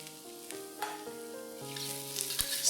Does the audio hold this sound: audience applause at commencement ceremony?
no